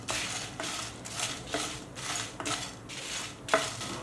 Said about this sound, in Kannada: ಒಣಮೆಣಸಿನ್ಕಾಯಿ, ಇಂಗು, ಚಕ್ಕೆ, ಕಾಳು ಮೆಣಸು. ಲೋ ಫ್ಲೇಮಲ್ಲೇ ಹುರ್ಕೊಳ್ಳೋಣ.